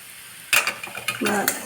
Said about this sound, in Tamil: கொஞ்சம் ஒரு ரெண்டு நிமிஷம் நல்லா வதக்கி கொடுக்கலாம்